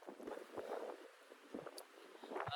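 Strong, gusty wind buffets the microphone outdoors at around five in the evening, rising and falling in uneven bursts with low rumbles, fairly faint overall and with no speech.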